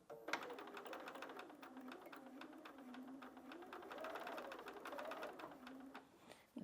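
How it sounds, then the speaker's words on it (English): A sewing machine stitches a quarter-inch seam in fabric with a fast, steady run of needle clatter over a whining motor hum. The sound is faint and close, and no one speaks. "So let's take that to the machine and sew that."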